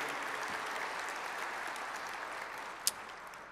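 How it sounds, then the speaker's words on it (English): An indoor breakfast audience at a port's annual state-of-the-port event applauds its servers with steady, dense clapping that holds even and sustained throughout, with one brief sharper clap near the end. "Can we give them a round of applause?"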